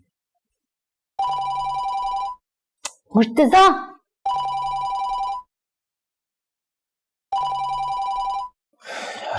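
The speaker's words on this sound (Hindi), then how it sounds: "तुम्हारा फोन बज रहा है।" A phone rings in three repeated bursts of electronic bell tone, each about a second long, with a voice calling out in the gaps between rings.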